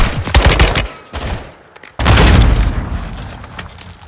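Grenade explosion in the video game Modern Warfare 2: a loud booming blast with a long rumbling tail, preceded by gunfire bursts, all close and dominant.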